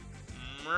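A person imitates a cow's moo with a short, voiced, rising call during a tabletop fantasy role-playing game session, heard alone and close.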